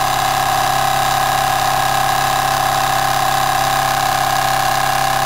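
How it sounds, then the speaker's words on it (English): A Jensen 75 model steam engine fitted with a superheater runs at steady high speed, giving a constant loud mechanical whir with a fast even chuffing rhythm that holds unchanged throughout. "we just want to see where the engine maintains its speed."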